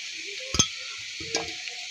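Ginger-garlic paste frying in a pan for Bengali loitta shutki bhuna, a steady quiet sizzle with two brief scrapes of stirring.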